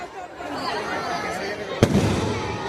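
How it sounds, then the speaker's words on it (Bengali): Fireworks going off at an evening display held by Arambagh Sporting Association in South 24 Parganas, with one sharp bang standing out among distant crackling, crowd chatter running underneath throughout. "এদিকে শুরু হয়ে গেছে আতশবাজি প্রদর্শন"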